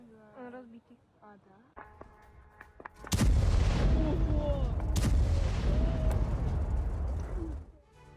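A drone strike explosion at a coal mine, a sudden heavy blast that is followed by several seconds of loud rumbling roar with a second sharp burst, coming after a stretch of quieter voices and sounds.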